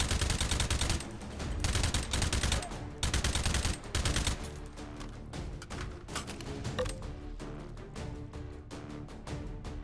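Rapid gunfire in the VR shooter H3VR, loud bursts of fast automatic shots that give way to a steadier run of individual cracks, with mechanical clatter between them.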